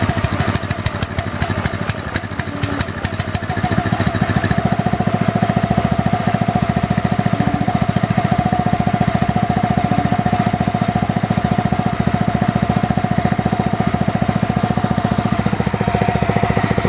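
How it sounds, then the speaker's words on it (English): A small petrol engine, started on propane and now running on white spirit, sputters unevenly at first, then settles into a loud, steady, rapid knocking idle that carries on without a break. "So that engine is now running on white spirit."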